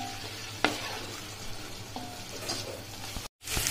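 Veg Manchurian balls frying in a pan, a moderate steady sizzle with a couple of sharp clinks, briefly cutting out near the end before resuming; no talking.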